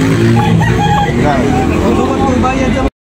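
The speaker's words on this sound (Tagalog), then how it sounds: "Manok yun. Quality manok." Roosters and chickens at a backyard fowl market in Cebu crow and cluck continuously at close range amid crowd noise and passing traffic, and the sound cuts off abruptly near the end.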